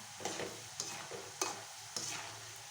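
Masala frying in a pan for roadside-style masala vada, a soft sizzle broken by four distinct stirring scrapes at regular intervals, close and fairly quiet.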